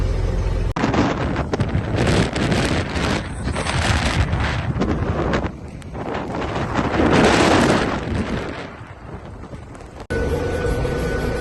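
Strong wind roars through a snowstorm with near-zero visibility while a tractor clears a road ahead, gusting loudly against the microphone in heavy buffeting waves with brief lulls, no talking.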